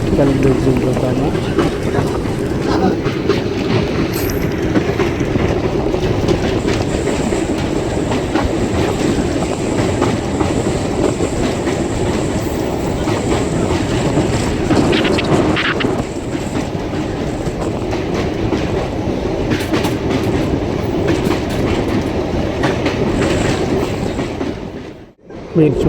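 A train runs across the new Pamban vertical-lift sea bridge toward Rameswaram with a steady, loud rumble and rhythmic wheel clatter. The noise continues unbroken for the whole stretch, with voices underneath, before it cuts off near the end.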